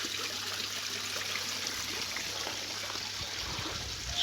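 Water from a small garden pond waterfall trickles and splashes steadily, a continuous close rushing wash with no voices over it.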